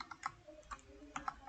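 Keys clacking on a computer keyboard while code is entered into a Flutter chat app login page, a few separate taps and short bursts spaced out, close and fairly quiet.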